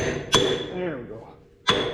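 Hammer tapping on the front end of an M670 under repair, two sharp metallic strikes about a second and a half apart, close and loud, with voices talking in between.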